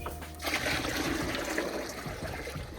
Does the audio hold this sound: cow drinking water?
yes